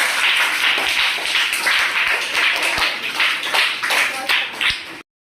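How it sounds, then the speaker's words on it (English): A classroom of students claps together for a classmate, a brisk, bright patter of many hands at close range that continues steadily and then stops abruptly. "Clap for Simran."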